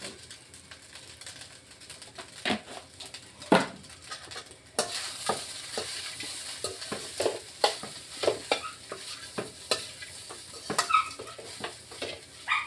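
A carrot mixture with salt and coriander is stirred in a pan, giving repeated scraping and light sizzling strokes at close range with uneven rhythm, with faint birds in the background.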